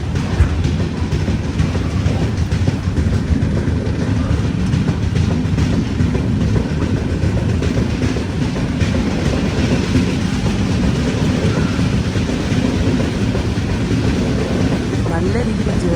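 Mangala Lakshadweep Express pulling out of Koyilandy station, heard from inside a sleeper-class LHB coach as a steady loud rumble and rhythmic rail clatter throughout, with voices talking over it.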